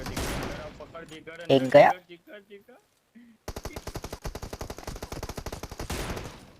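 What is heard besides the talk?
gunfire in PUBG video game, M24 rifle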